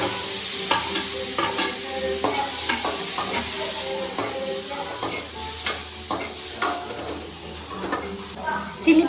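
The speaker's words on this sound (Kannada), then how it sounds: "ಜಸ್ಟ್ ಹಂಗೆ ಬಟರಲ್ಲಿ ಫ್ರೈ ಮಾಡ್ಕೊಳ್ಳೋಣ." Paneer cubes fry gently in melted butter over a low flame. A steady soft sizzle runs throughout, broken by repeated scraping and clinking strokes of a spatula in the pan, with no voices.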